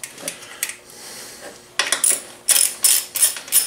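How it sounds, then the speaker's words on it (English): A hand ratchet clicks in quick bursts, loosening 10 mm bolts while fitting radiator guards on a Honda Africa Twin CRF1000L motorcycle, with short pauses between the runs of close, sharp metallic ratcheting. "Remove these two 10 millimeter bolts right here"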